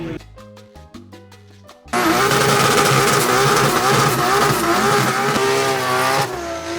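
Volvo drift car at Mondello, its engine revving hard and loud from about two seconds on, sustained high-rev screaming with wavering pitch after a quieter stretch of rhythmic mechanical pulses at the start.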